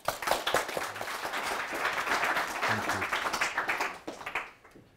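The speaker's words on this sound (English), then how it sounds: "Please applaud." Audience applause at an annual wealth management forum, a steady burst of many hands clapping that fills the room, then thins out and fades near the end.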